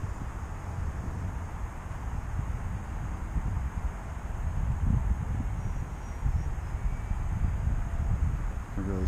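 Gusty wind buffets the microphone at an RC flying field, a continuous low roaring rumble with surging gusts, joined by the faint steady whine of a distant model aircraft.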